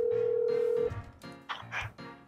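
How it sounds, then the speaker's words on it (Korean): Telephone ringback tone heard while placing a call, one steady electronic tone lasting nearly a second, then the line clicks and brief voice-like sounds answer. "자프님 한번 전화를 한번 드려볼게요"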